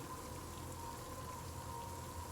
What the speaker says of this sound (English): Nothing but the company of the falling rain